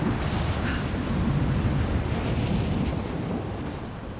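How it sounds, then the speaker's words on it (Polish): Howling mountain wind in Rise of the Tomb Raider, a steady broadband roar with surf-like gusting that stays loud and constant throughout, with no voices. "Ten wiatr jest obłędny!"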